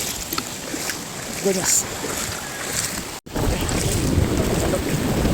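A strong river current rushes at the Piapi river crossing in Mauban, Quezon, a loud continuous roar of churning water and wind buffeting the microphone, with a man's brief exclamation over it.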